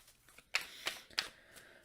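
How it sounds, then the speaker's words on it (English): Tarot cards being shuffled, a few crisp close riffling snaps and slaps in quick succession, quiet and near. "Just gonna shuffle just a little bit here."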